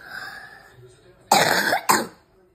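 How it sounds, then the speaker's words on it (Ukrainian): Patient coughing during a medical examination: two harsh, close coughs in quick succession, the first longer than the second, following a faint breathy sound. "Пацієнт вже задоволений кашляє."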